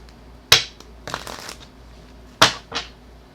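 Tarot cards being shuffled by hand, close and clear, with two sharp riffling bursts separated by softer sliding and handling sounds, no talking.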